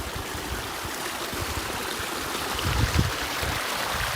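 Water running steadily from rocks on an agricultural farm, a continuous rushing stream with a few low gurgles near the end, heard alone without voices.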